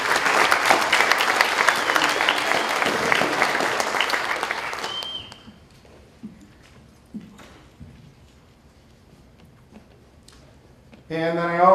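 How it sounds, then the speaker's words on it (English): Concert audience applauding band students at a high school band concert, a dense, loud burst of clapping for about five seconds that then cuts off, leaving quiet room noise and scattered small sounds. "Let's give them a round of applause."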